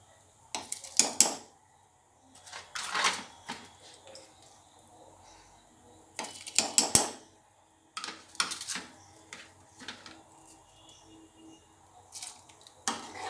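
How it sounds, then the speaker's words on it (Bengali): Soaked rice tipped into boiling milk for Bengali payesh, rice kheer: repeated clinks, pours and splashes of grain against a pot, in short close bursts with quiet gaps and no talk. "এবার আমি ভিজিয়ে রাখা যে চাল সেটা দিয়ে দিচ্ছি"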